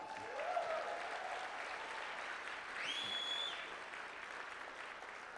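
Convention crowd applauding at a motivational event, a faint, distant wash of clapping that holds steady, with a brief high tonal sound partway through.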